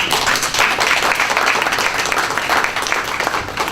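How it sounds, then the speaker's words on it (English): An audience at a diversity and inclusion week talk gives a round of applause, a dense, steady wash of clapping that fills the whole stretch without talk over it. "Give him a round of applause."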